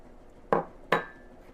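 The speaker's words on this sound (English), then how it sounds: "just hit your egg against something hard, crack it into your your little separate bowl" An egg tapped twice against a small bowl, two sharp, close knocks about half a second apart in an otherwise quiet room.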